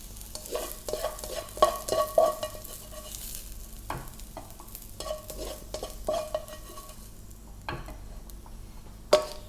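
Half-cooked noodles stirred and fried with shrimp in a pan, soft sizzling under repeated scraping strokes and occasional sharp utensil knocks against the pan, close and moderately quiet.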